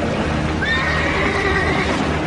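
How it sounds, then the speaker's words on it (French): Horses neigh in a single drawn-out, high whinny while struggling in a lake, heard clearly over low background noise with no talking. "les chevaux qui nagent derrière l'embarcation se débattent et disparaissent sous les flots"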